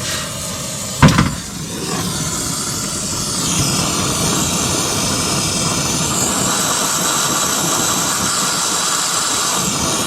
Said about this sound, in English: So again, acetylene first, turn it up till there's no soot, oxygen.